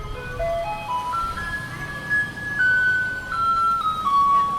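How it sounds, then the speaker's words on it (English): A Taipei garbage truck plays the melody of A Maiden's Prayer as a chiming electronic tune, its notes rising and stepping along steadily over a low, continuous road rumble, with no talking. "That's A Maiden's Prayer by Polish composer Tekla Bartoszewska-Baranowska."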